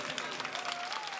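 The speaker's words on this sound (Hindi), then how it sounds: "क्वेश्चन पे ताली होनी चाहिए" An audience at a comedy show breaks into brief, dense applause, a steady rush of many hands clapping together.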